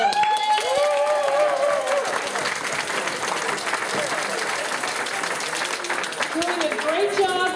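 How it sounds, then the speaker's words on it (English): Applause from a Toastmasters district conference audience for speech evaluation contest participants, steady clapping with some cheering beneath a speaking voice at the start and again near the end. "Let's applaud for all of them."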